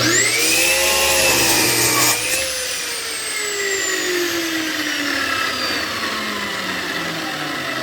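A power saw cuts the excess off a blank with a loud, close, high whine that bites in, then drops steadily in pitch as the blade spins down over several seconds.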